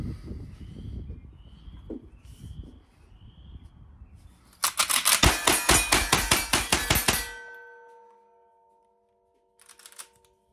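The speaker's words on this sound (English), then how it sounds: "I'm shooting 105 grain bullet right here. 105 grain 38 special." A Marlin 1894C lever-action rifle fires 105-grain .38 Special rounds, with a rapid series of about a dozen sharp, loud metallic bursts in quick rhythm, preceded by low handling noise and followed by quiet.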